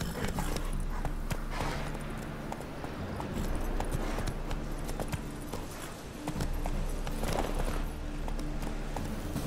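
Roach, the horse in The Witcher 3, gallops in a steady clip-clop of hooves, close and continuous, over a low droning game background.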